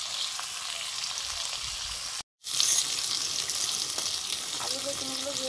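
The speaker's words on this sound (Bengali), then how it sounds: "আলু বেগুনটা ভেজে নিচ্ছি।" Potato and eggplant pieces fry in oil with a steady, close crackling sizzle that drops out briefly partway through, then resumes.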